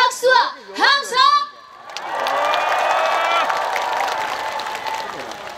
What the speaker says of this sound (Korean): 더 크게 박수와 함성!